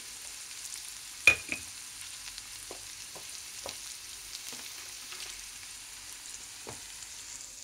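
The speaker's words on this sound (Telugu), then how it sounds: "కొద్దిగా ఉప్పు యాడ్ చేసినామంటే తొందరగా వేగుతుంది" Cabbage and carrots fry with salt in a pan, a soft, steady sizzle broken by a few sharp clicks and light stirring taps, with no voices.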